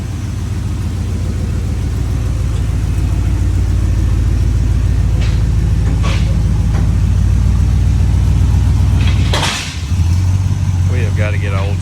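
Toyota Tundra pickup with its muffler and resonator cut off, the engine rumbling loud and steady up close, rising briefly before a short drop, with people talking under it.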